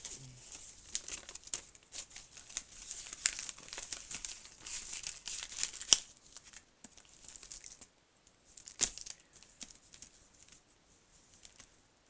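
A paper envelope being handled and torn open: close, quiet crinkling and rustling with sharp tearing bursts scattered throughout, no speech.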